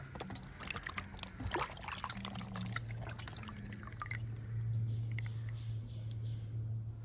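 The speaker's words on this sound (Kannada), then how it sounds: "ಓಕೆ ರೋಸ್ ಆ್ಯಪಲನ್ನು ಒಳ್ಳೆ ರೀತಿಯಲ್ಲಿ ವಾಶ್" Rose apples are rinsed under running water, with faint splashes and drips over a steady low hum.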